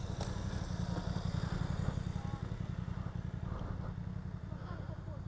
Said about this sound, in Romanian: Și avem motocicliști.